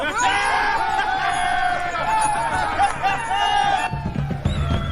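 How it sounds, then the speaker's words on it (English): An army crowd cheers and yells in the distance on the eve of a medieval battle against the French, a continuous swelling roar of many voices that carries on steadily and drops off slightly near the end. "What are they cheering about over there?"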